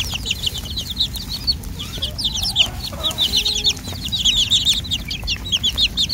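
A black desi hen clucks in rapid repeated bursts close by, with soft farmyard rustling underneath and other fowl faintly around.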